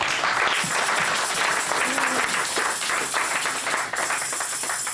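A church congregation applauding and cheering, dense, sustained clapping from a crowd filling the space, loud and continuous with voices mixed in.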